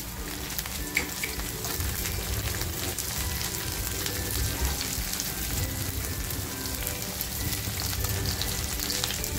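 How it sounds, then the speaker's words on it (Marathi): Chillies, garlic and ginger frying with onion in a pan give a loud, dense, continuous sizzle with crackling spatter and no voice. "मिरच्या ज्या घेतल्या त्या मिरच्या टाकते, त्याचबरोबर आहे ना लसूण आणि अद्रक घेतलं होतं ते टाकते"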